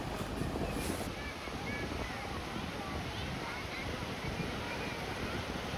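Steady wash of sea waves with wind buffeting the microphone, a continuous broadband rush without distinct breaks.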